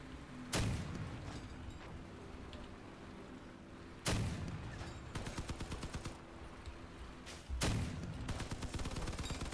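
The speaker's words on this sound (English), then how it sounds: "Meanwhile, constant damage is coming from the machine guns." Machine gun fire in the vehicle combat game Crossout: three loud bursts, each opening with a heavy boom and followed by rapid rattling rounds, repeating every few seconds.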